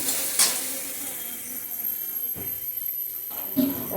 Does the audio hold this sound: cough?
no